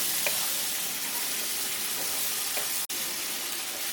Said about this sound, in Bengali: এর মধ্যে একবারে আমি টমেটো পিউরিটা দিয়ে দিচ্ছি। এখন সব একসাথে কষাতে থাকবো।